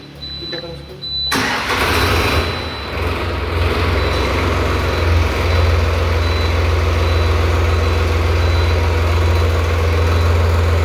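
A Solis 4215 4WD 43 hp tractor engine cranks and fires about a second in, then settles into a steady, loud, deep diesel idle that rumbles on close by.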